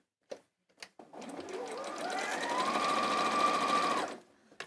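A sewing machine stitches fabric at a skirt and kimono sewing session, running in one continuous close, steady whirring burst of about three seconds after a couple of short starts, with faint talk before.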